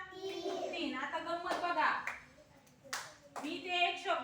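A group of children claps out the syllables of a word in a classroom, a few short bursts of clapping mixed with children's and a teacher's voices.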